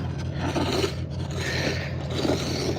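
A snow shovel scrapes across a driveway during cleanup, a steady close rasping scrape with no talk.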